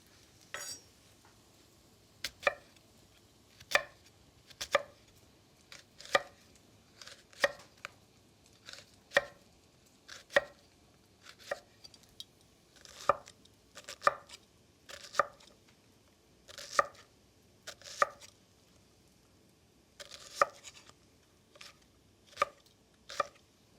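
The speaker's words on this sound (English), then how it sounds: "One more through with the knife, and then into the hot pan" A knife chops jalapeños on a cutting board for stuffed mushrooms in a steady run of about twenty crisp, close, evenly spaced strikes with brief pauses, no talk.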